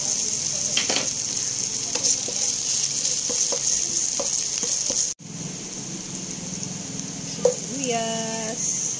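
Garlic and ginger sautéing in a pan for ginataang hipon, a steady close sizzle and frying hiss with soft stirring clinks throughout, a brief cut midway, then a short rising tonal sound near the end.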